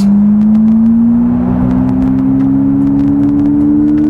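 A Smart #3 Brabus electric car accelerates hard in Brabus mode inside a tunnel, its motor whine rising steadily in pitch over loud, enveloping road and cabin rumble, with no talking.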